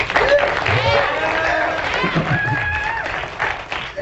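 Audience members at a lecture applaud after a question, a moderate wash of clapping heard underneath someone talking over it.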